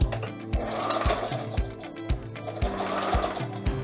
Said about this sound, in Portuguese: E agora a costura de segurança, a gente dobrou o tecidinho e a gente vai trabalhar bem na beiradinha.